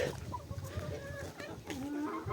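Farmyard chickens, including roosters, cluck and chatter continuously nearby while being fed zucchini, with a few louder calls standing out.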